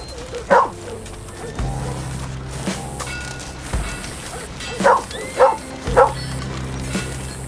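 A cute puppy in Red Dead Redemption 2 gives a few short yips and barks, one early and a quick cluster of three near the end, over a steady game ambience and music bed.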